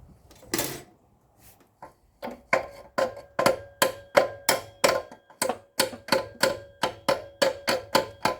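Careful, evenly spaced taps on a brittle plastic part at the bottom of a GM 6.2 V8 intake, about fifteen sharp knocks in a steady rhythm, close and clear with no talking.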